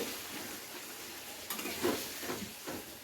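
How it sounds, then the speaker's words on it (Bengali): Ground spice paste with green chili and a splash of water sautéed in a pan for Bengali oil-style koi fish curry, a quiet sizzle with soft scraping stirs and light utensil knocks. "একটু জল দিয়ে মশলাটাকে ভালো করে কষিয়ে নিলে"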